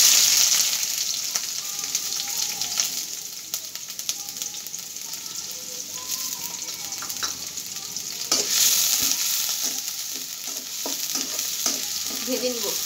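Green chilies and onions frying in hot oil, a continuous close sizzle with scattered pops and stirring scrapes, briefly surging louder near the middle, with no one speaking.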